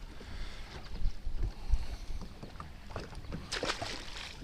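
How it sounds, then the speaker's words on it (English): Strong wind gusting outdoors by dam rocks, blustery buffeting noise with rumbling bursts across the microphone and faint splashes or movement mixed in, moderately loud and continuous. "The wind is freaking wicked out here."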